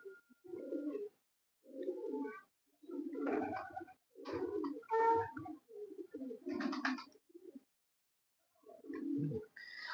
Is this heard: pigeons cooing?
yes